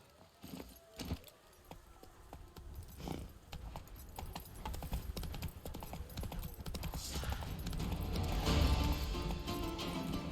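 Horse hooves clip-clopping in the video game The Witcher 3, a steady trotting patter under a dense bed of game sound and music that grows gradually louder toward the end.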